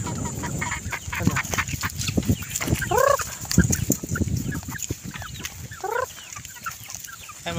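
Chickens cluck at a chicken farm, a busy scatter of close and mid-distance clucks with a couple of rising squawk calls, over low background rustling.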